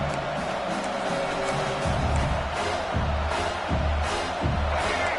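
A football stadium crowd roars in support of the defense during a college game, a broad sustained wash of cheering that swells at moments beneath a commentator talking.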